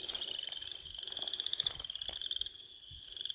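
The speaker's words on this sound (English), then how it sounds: "Wood frog." Wood frogs call from a lake-side wetland along a trail in Elk Island, giving rapid, low clucking croaks in a steady chorus at a moderate distance over a faint high insect-like trill.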